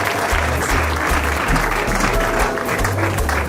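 Guests at a church wedding ceremony clap together in loud, sustained applause, with a low musical backing underneath.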